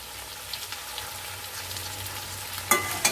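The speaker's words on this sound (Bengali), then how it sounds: "এটাকেও একটুখানি নেড়ে চেড়ে ভেজে নিলাম" Greens stir-fried with spices in a pan, a soft continuous sizzle with a few light stirring clinks near the end.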